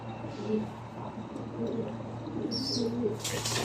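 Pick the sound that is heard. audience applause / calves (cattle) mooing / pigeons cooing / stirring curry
pigeons cooing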